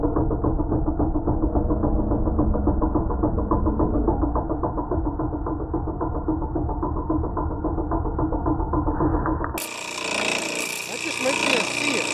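A John Deere A18 pressure washer's engine runs steadily and loudly nearby with a constant rough drone. Near the end it turns harsher and more hissing as the spray changes.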